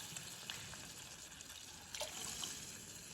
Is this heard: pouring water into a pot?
yes